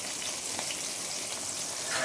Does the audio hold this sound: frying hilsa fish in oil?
yes